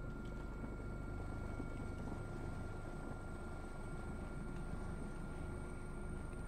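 A military helicopter in the Squad video game, heard as a steady, continuous rotor and turbine drone, even and unbroken throughout with no talking.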